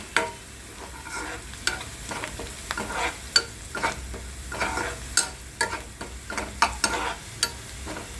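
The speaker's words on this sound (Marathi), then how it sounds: "जरा कांदा भाजून झाला की मग आपण त्याच्यामध्ये आपले मसाले ॲड करणार आहोत" Onion frying in a pan for a potato and pea curry: a soft continuous sizzle broken by regular scraping stirs and spoon taps against the pan, close up, with no voices.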